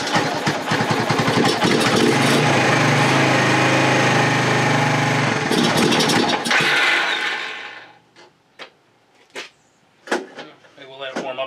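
The engine of a 1985 Suzuki Quad Runner 250 runs on choke, loud and close with a steady rough idle for about seven seconds. It then dies away into quiet broken by a few clicks and knocks.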